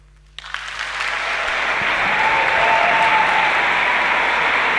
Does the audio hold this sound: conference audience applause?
yes